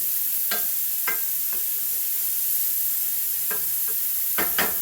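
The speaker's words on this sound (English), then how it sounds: "just render this out, get some of this fat out of here, because this fat has wonderful flavor." Ground pork sizzles steadily in a pan as its fat renders, a close, even hiss broken by a few sharp scrapes of a wooden spoon.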